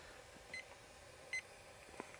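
The receiver of a grill thermometer beside a Weber Summit charcoal grill gives two short, bright electronic beeps while its alarms are being set, followed by a soft click, all quiet and close.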